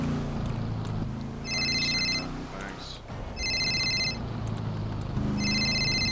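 A phone rings in the GTA RP video game, with three bursts of electronic ringing over steady low background hum and intermittent game noise.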